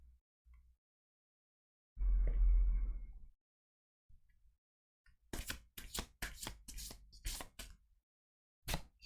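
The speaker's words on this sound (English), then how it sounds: "And these have been well and truly shuffled." Tarot cards shuffled by hand for a pick-a-card reading, heard as a dull riffle burst followed by a run of sharp, crisp snaps and flicks, close and fairly loud, with no talking.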